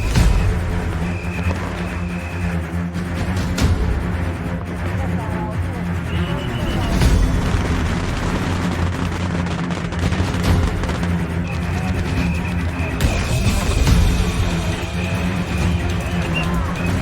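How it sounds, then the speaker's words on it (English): Beehive fireworks explode at the Yanshui festival in Tainan in a loud, continuous barrage of crackling bangs and pops that never lets up, with a few heavier booms. "the first Beehive fireworks of today"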